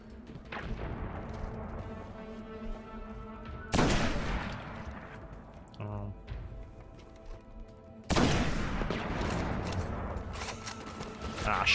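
Gunfire during a Nightfall strike in the video game Destiny, sustained rattling shots with two sudden loud blasts, layered over game music and combat noise.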